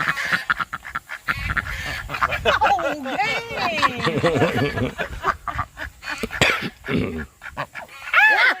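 Ducks quack and honk loudly and close by on a homestead, their rough, repeated calls tumbling over one another while people talk and laugh among them.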